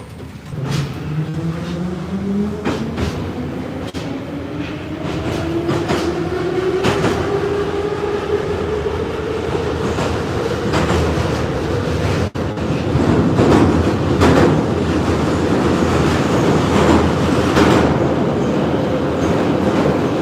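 A St Petersburg Metro Line 4 train runs steadily with a loud rumble and a rising motor whine, rhythmic clicks from the rails throughout.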